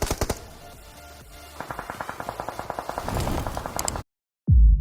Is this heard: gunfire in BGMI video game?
yes